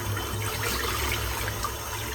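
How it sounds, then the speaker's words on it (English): Running water splashes steadily as a shaving brush is rinsed under a tap, a constant close rush of liquid with no voices. "I'm going to rinse this brush out."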